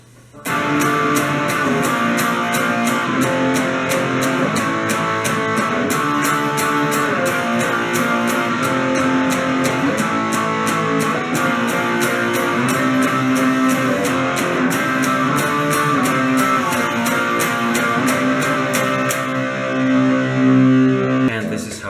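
A distorted electric guitar plays the bridge of a song, a continuous chord-driven passage for about twenty seconds, loud and sustained, with strummed rhythm throughout.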